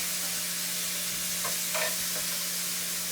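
Shrimp frying in heated olive oil in a skillet, a steady close sizzle with a low constant hum beneath and a couple of faint clinks partway through, no talking.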